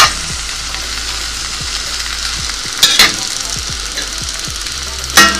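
Swiss chard leaves and potatoes fry in a pan with a steady, close sizzle and crackle throughout, broken by a few brief louder clatters of stirring.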